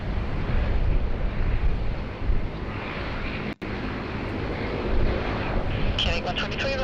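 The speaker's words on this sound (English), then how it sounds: "It's a Virgin Australia 737-800." A Virgin Australia Boeing 737-800 arriving at Sydney Airport, a broad jet roar mixed with wind buffeting on the microphone, steady and fairly loud with a brief dropout, while a voice talks over it.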